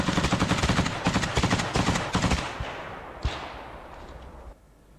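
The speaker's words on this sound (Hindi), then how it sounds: "यूक्रेनी सैनिक जो हैं वो ताबड़तोड़ गोलियां बरसाते हुए आपको दिखाई दे रहे हैं" Bursts of automatic rifle fire from Ukrainian soldiers in combat against Russian forces, rapid loud volleys over the first half, then tapering to scattered shots and a single later crack before quiet.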